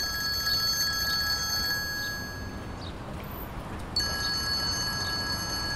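A telephone rings with a repeated electronic tone, stops briefly, then resumes, set against a low background hum at moderate volume.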